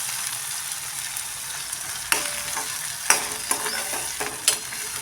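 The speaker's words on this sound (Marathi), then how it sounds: "टोमॅटो चांगला परतून घेऊया." Chopped tomato sautés in a pan for besan-spinach bhaji, a constant hissing fry broken by several sharp clacks of a spoon stirring against the pan, with no talking.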